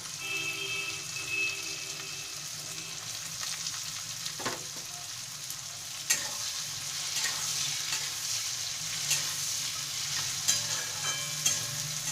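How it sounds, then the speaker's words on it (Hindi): Beans and capsicum frying with red chilli powder on a tawa for pav bhaji, a continuous soft sizzle with intermittent scraping stirs and clicks of the utensil, no talking. "इसे 3 मिनट तक अच्छे से भून लेंगे। बीच बीच में चलाते हुए इसे भून लें।"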